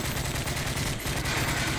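Sustained automatic gunfire in the Modern Warfare 3 video game, a dense continuous rattle of shots filling the whole stretch at steady loudness with no talk.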